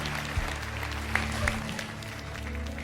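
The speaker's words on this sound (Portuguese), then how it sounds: "Agora dê ao Senhor uma grande salva de palmas e louvor" A church congregation claps together at a moderate distance, making a fairly even, continuous patter with a few sharper individual claps over the room's ambience.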